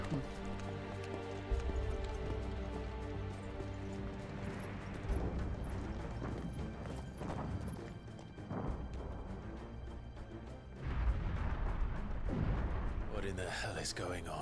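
Explosions in a battle against Imperial Dragoons in Final Fantasy XVI: repeated heavy booms and rumbling blasts recur over a steady musical backdrop, with several sharp impacts standing out, moderately loud throughout.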